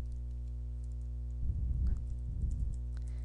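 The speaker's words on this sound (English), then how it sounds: "we're gonna type in hello world" Keys tapped on a computer keyboard while entering text in an HTML tutorial, two short bursts of close, soft clicking over a steady low electrical hum.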